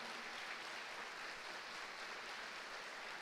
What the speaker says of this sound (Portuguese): podem aplaudir mesmo